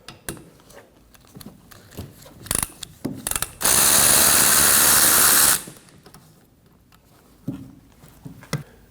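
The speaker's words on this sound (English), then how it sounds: "Now we can use a 15 millimeter socket and remove the nut." A power ratchet with a 15 millimeter socket spins off a car's wiper arm nut on a 2015-2024 Ford Edge, one loud steady whir lasting about two seconds amid faint clicks and handling noises.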